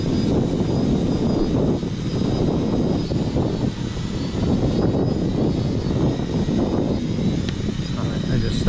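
UpAirOne drone hovering and coming down to land, a steady buzzing whir of motors with a constant hum throughout, fairly close and loud, with no speech.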